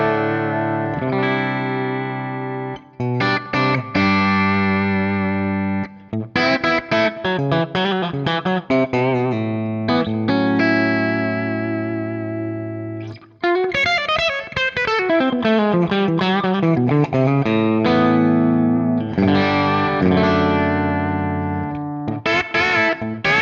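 A Saticoy electric guitar played through its Filtertron bridge pickup with the tone wide open rings out in bright, clear phrases of chords and single notes with bends, heavily effected and slightly distorted, with no talking.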